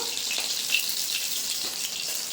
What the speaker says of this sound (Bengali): মাছগুলো কিন্তু খুব সুন্দর করে ভেজে নিয়েছি